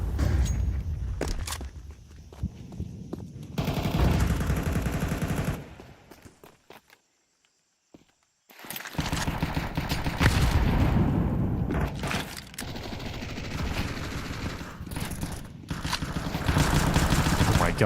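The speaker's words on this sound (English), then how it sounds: "God, it's bullets going down through the smoke at B lane here." Gunfire in a Counter-Strike match shot through smoke at B lane, with loud bursts of rapid shots in clusters, a short near-silent gap in the middle, then more dense firing and impacts.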